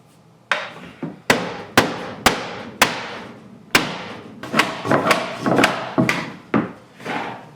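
Sheet metal ductwork flange edge being bent by hammer: a series of sharp, loud blows, spaced at first and then quicker and clustered, each with a short ringing decay, close up and without speech.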